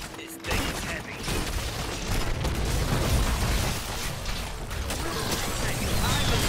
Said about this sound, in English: Here comes the mother of all explosions!